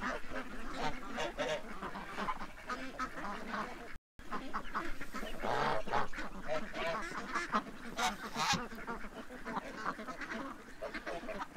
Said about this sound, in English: Actually, there's quite a few ducks over there.